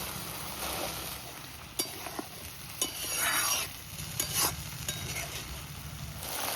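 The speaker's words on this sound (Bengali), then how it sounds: "মশলা মোটামুটি কষানো হয়ে গেছে, এবার কড়াইশুঁটিগুলো দিয়ে দিই।" Green peas tossed into a pan of fried spice paste for a fish curry, sizzling steadily while a spoon stirs and scrapes with a few sharp clinks, close and continuous with no talking.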